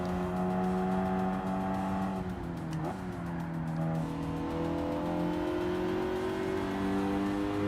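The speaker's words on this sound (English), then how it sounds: "it's a bone stock 4-cylinder turbo car. These cars aren't, the EcoBoost engines aren't known for good sound." A stock four-cylinder EcoBoost turbo engine in Gran Turismo 7 drones loudly and steadily, its pitch dipping briefly mid-run as it shifts or lifts, then climbing again under throttle.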